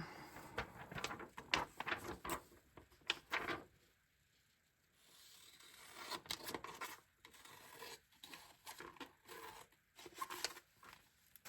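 Scissors cut out a picture from a magazine page in crisp snips and paper rustles, close by. A brief quiet pause falls in the middle, then the irregular cutting continues.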